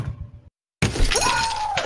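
Glass shattering in Counter-Strike: Global Offensive, a single loud crash with a bright ringing tail after a brief silent gap, heard alone without speech.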